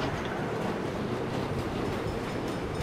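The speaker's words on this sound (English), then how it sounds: "Are we really gonna wait for a train?" A train passes in the video game Saints Row, heard as a steady, loud, broadband rolling rumble. It stays constant throughout, with no voices.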